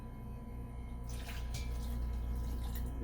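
Water pours into a container while Irish sea moss is prepared for blending into a jelly, a close splashing trickle starting after a quiet second and running on over a low background hum.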